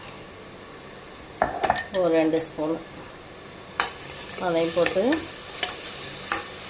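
A spoon stirs and sautés ginger garlic paste with green chillies and coriander in a frying pan for a Tamil mutton and field bean curry, with clinks of metal on the pan and a soft sizzle, while someone speaks between strokes.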